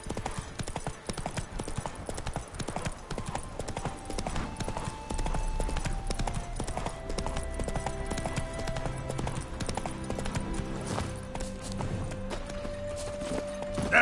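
Roach the horse gallops in The Witcher 3 on PS5, with hooves clip-clopping in a rapid, continuous rhythm over tonal game music that grows fuller partway through.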